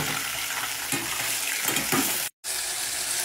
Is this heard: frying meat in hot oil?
yes